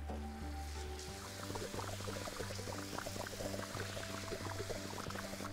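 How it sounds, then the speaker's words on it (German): Water being fetched in a nature-restoration video game: a steady pouring, trickling splash runs throughout under a low, sustained game music drone, with no speech. "Nein, kein Wasser mehr. Und nicht Z. Erstmal wieder Wasser holen."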